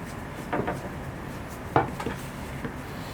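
A rolling pin works homemade noodle dough on a floured surface, giving a few soft wooden knocks and brief rolling rubs in a quiet room.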